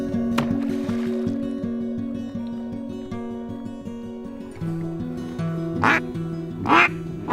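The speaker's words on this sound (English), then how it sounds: "Seen a couple of ducks already" Several ducks quack in a steady, overlapping chorus at Horicon Marsh, Wisconsin, with a few louder nearby quacks standing out toward the end.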